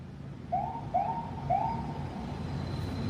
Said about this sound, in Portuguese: Até tocou a sirene aqui.